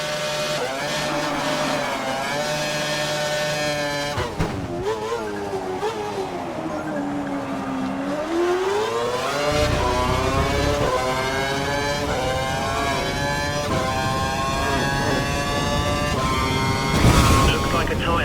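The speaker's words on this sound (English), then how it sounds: "accelerate towards the hairpin corner, turn in at the correct point, hit the apex, and accelerate past 185 miles per hour out of the corner" Formula 1 race car in F1 2012 accelerating through a hairpin corner to over 185 mph, engine pitch dipping through the turn then climbing steadily as it powers out, loud and continuous, with a voice talking over it.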